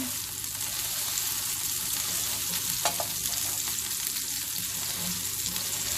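Homemade turkey kebabs fry in oil in a pan, a steady moderate sizzle broken by a faint scrape near the middle, with no voices.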